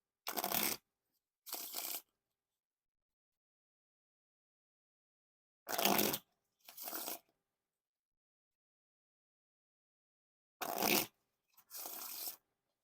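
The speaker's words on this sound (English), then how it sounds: "Now for the riffle shuffle or bridge shuffle." Bloc Plush playing cards are riffle shuffled three times, each a short crisp burst of flicking cards followed by a softer bridge cascade, close and quiet with silence between.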